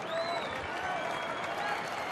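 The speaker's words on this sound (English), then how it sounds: "And the crowd getting into it, trying to help Coke." A large baseball stadium crowd at a Rangers–Tigers game cheers and applauds in a dense, sustained roar, loud and continuous with whistles rising above it.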